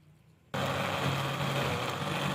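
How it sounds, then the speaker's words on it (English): A blender starts abruptly and runs at a steady loud whirring roar, chopping weeds and leaves with water into a green juice for plants, heard up close. "we will put them in a blender and add some water to blend and make a green juice for our plants"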